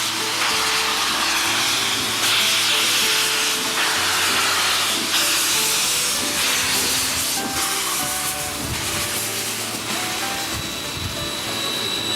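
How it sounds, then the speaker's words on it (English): Loud, continuous hissing of steam from a mainline steam locomotive getting underway, with a low rumbling underneath and surging bursts that swell and fade. "With a lot of hiss and a little bit of roar, today's adventure finally gets underway"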